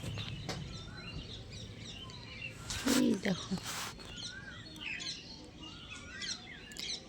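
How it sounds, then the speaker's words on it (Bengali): Asian koel birds call outdoors, several clear chirps and whistles at moderate distance among other birdsong, with a brief spoken remark over them partway through. "আর কোকিলের আওয়াজটা তো খুবই ভালো লাগে।"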